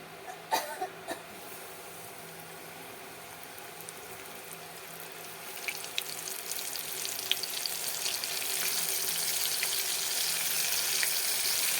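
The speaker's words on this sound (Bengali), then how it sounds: "এবার আমার তেল গরম হয়ে গেছে, আমি এর মধ্যে মাছগুলোকে দিয়ে ভেজে নেব" Flour-coated lote fish fry in hot oil, a soft continuous sizzle that builds and grows brighter over time, with a few faint clinks near the start and no voices.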